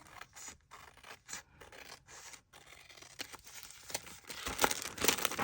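A paper trimmer slices paper for a handmade journal: quiet scraping and crisp cutting strokes in short bursts with brief pauses, growing louder and rougher toward the end.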